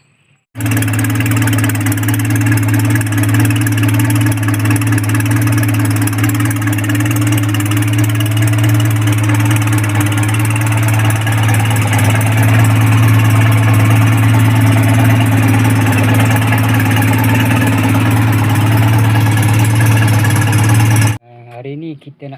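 A Wira outboard engine on a fishing boat idles loudly and close by, a steady low hum with a fast mechanical chatter for about twenty seconds before cutting off abruptly.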